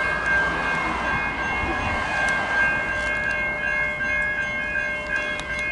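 A V/line N class locomotive, N463, idles at a station platform with a steady droning engine hum and sustained tonal whine, loud and unchanging, with no talk.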